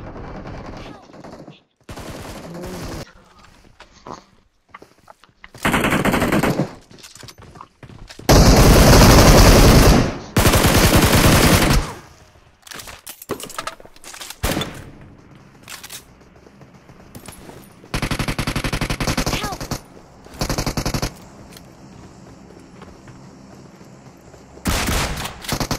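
Bursts of gunfire and heavy DBS shotgun blasts from a PUBG Mobile match come in loud, dense clusters separated by quieter stretches of game ambience.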